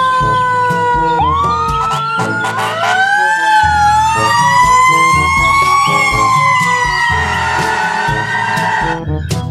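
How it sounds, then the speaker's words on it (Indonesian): A toy fire truck's electronic siren wails loudly and continuously, rising and falling in pitch over a busy pattern of beeping tones, close and with no talking. "Yang ini ada mobil pemadam kebakaran."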